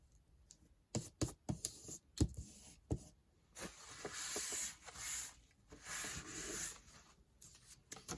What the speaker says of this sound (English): And again, just burnishing from the back.